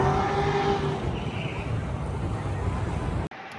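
Cars lined up for drag racing at Route 66 Dragway during the Hot Rod Power Tour give a loud, continuous engine rumble with wind buffeting, cutting off abruptly near the end.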